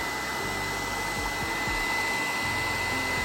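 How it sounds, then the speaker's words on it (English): A blow dryer runs steadily and close by while heating the adhesive of privacy film on a glass window or door, a constant loud whir with low rumbling thumps underneath. "So now we're going in with our blow dryer to activate the glue on"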